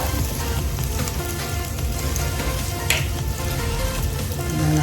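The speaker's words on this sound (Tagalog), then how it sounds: "Saka natin igisa yung bawang natin." Garlic sautéing in a little cooking oil in a pan while making spicy ginataang laing with taro leaves, a steady close, dense sizzle running throughout with a brief sharper crackle near the middle and no talking.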